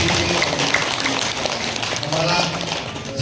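Applause from the audience at the inauguration of a new yoga centre on New Year, dense clapping at a steady level throughout with faint voices underneath.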